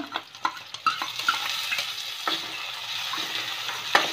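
Chopped tomato is stirred and fried in a pan for restaurant-style dal, with a low hiss of sizzling under quick, close clicks and scrapes of a spoon that thin out into steady frying, and no talking.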